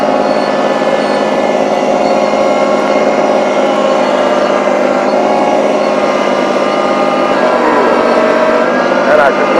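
A small tractor engine runs steadily throughout during tree removal, a constant loud mechanical drone with no letup.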